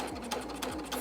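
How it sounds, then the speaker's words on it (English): Sewing machine back stitching a seam on a zippered box pouch, a short close mechanical run of quick needle strokes with a few rhythmic pulses, alone. "I definitely want to back stitch at the beginning and end of these openings"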